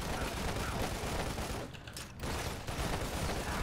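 Dense, continuous gunfire and explosions from the video game Lost Planet fill the clip, a loud unbroken barrage with a brief dip partway through.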